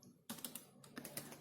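Keys clatter on a computer keyboard in a quiet room, a short burst of close, rapid taps after a brief silence, with no one speaking.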